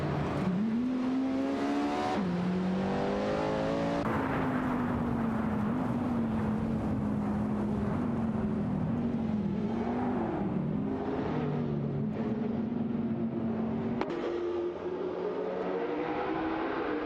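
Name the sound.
racing car speeding away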